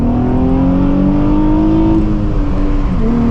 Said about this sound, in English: All right, second gear pull.